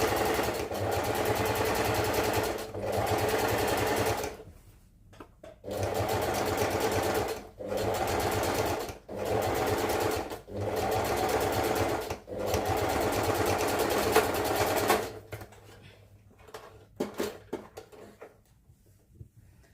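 A sewing machine back stitches about half an inch to secure a seam on a handmade piece, running in steady close bursts with short pauses between them, then stopping into quiet handling noises near the end.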